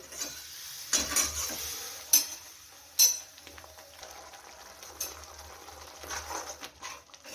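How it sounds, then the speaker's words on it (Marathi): Onion and tomato paste frying in oil for a brinjal masala gravy, with a spoon stirring and scraping the pan in a few distinct clinks over a faint, steady sizzle. Nobody speaks. "टोमॅटोची पेस्ट आणि फिरवून घेऊ आणि कांदा आणि टोमॅटो मस्त असं शिजवून घेऊया तेलामध्ये"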